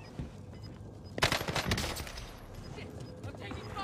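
Gunfire in an online shooter video game, a burst of rapid shots crackling in a dense volley, then fainter continuing fire, heard at moderate distance over low background ambience.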